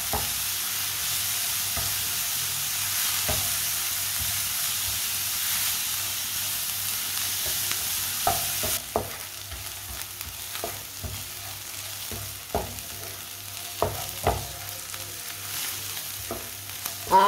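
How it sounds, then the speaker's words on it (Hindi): Spinach stir-fries in a pan, a steady sizzle and hiss with the occasional scrape and tap of a spoon, the frying noise quietening about halfway while the spoon knocks continue. "इसी तरह चम्मच चलाते हुए भून लेना पालक को।"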